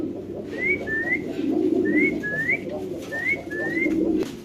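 Pigeons for sale, including Lahori, Lakkha and white Mundian birds, coo in a steady repeating series of soft rising calls over a constant low hum of background noise.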